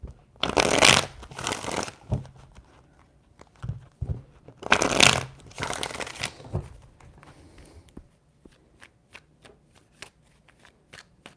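Tarot cards being shuffled in three loud riffling bursts, close and dry, followed by softer scattered card taps and flicks.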